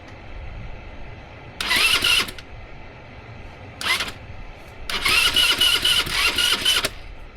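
A minibike's small engine cranks over in three bursts, a short grinding whir, a brief second try, then a longer stretch of rapid churning that doesn't quite catch, close by with outdoor background.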